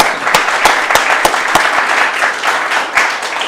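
A school audience at eighth grade speeches applauds a student's grandparents, with steady massed clapping and a few sharper nearby claps standing out in the crowd.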